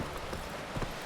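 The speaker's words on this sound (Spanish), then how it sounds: "Este es mi caballo, ¿no?" Horse hooves clip-clopping at a walking pace in The Witcher 3 video game, a steady soft rhythm of several muffled steps close by, with no talking over them.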